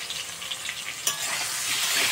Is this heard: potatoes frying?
yes